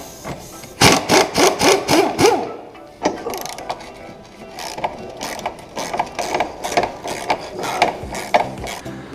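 A hand ratchet clicks in quick rhythmic bursts while loosening the bolts holding a car's steering rack to the subframe, with pauses and some metallic clunks between runs of clicking.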